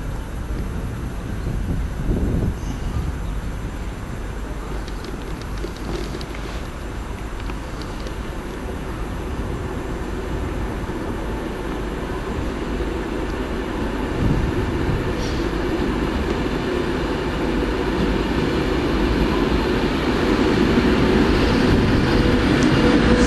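A Virgin Pendolino train pulls into a station on a line looking west toward Birmingham, a low rumbling roar that builds gradually and grows louder, with faint station ambience.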